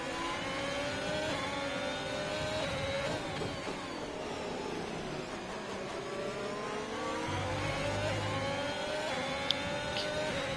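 Ferrari race car engine heard from the onboard camera in an Imola Grand Prix esports race in a racing video game, a loud continuous high-pitched whine rising and falling through gear shifts and throttle changes, with no talk.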